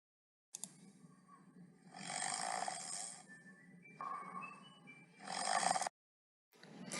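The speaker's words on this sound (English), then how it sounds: "If you guessed someone was snoring, then you have great listening skills" Loud, rasping snores rise and fall in slow rhythm, each long breath rumbling close by with short pauses between, no talking.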